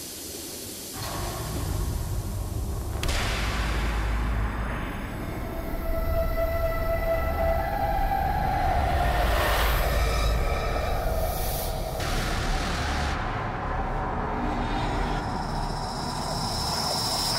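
A train rumbles along its rails in the horror game The Outlast Trials, a continuous low clatter with metallic screeches and hisses rising and fading over it, fairly loud and close.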